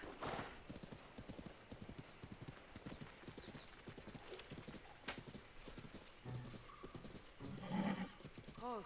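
A horse in The Legend of Zelda: Tears of the Kingdom trots with a steady, rhythmic clip-clop of hooves that runs throughout, and a whinny rises near the end.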